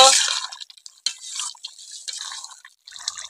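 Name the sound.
adding vinegar to chicken and stirring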